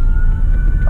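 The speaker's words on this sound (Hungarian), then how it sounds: "És jön egy mentőautó" An ambulance siren wails loud and steady through heavy, gridlocked traffic, its tone held over a low engine rumble in a brief burst.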